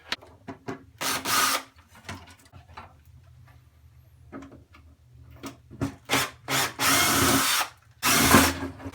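A power drill unscrews an electrical load center box from its mounting board, coming in several short whirring bursts with pauses and small clicks between them.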